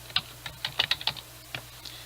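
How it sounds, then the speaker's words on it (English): Password typed on a computer keyboard: a quick run of distinct key clicks in irregular bursts, close and fairly quiet, with no talking. "You have to type it in twice, so type it in on the next box down"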